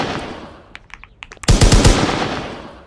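Video game gunfire during a wall jump on a city street map: a few quiet clicks and taps, then a loud burst of rapid automatic shots that rings out and fades.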